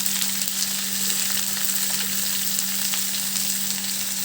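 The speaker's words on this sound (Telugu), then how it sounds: "ఆనియన్స్ అన్నీ వేసేద్దామండి. వేసేసి మనం ఫ్రై చేసుకోవాలండి." Onions with salt fry in a pan for an ivy gourd curry, sizzling loudly in a steady, dense hiss throughout, close up and with no talking.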